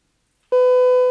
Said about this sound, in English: I'm not sure why it went beep. I probably pressed the wrong button.